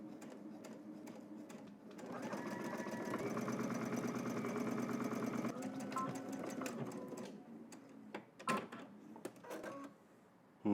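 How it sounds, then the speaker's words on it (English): A sewing machine runs a continuous stitch along the top and sides of a seam, a close whirring chatter that starts after a short pause and stops midway, followed by a few handling clicks and knocks. "so now head to the machine. We're gonna stitch around the top here and the sides"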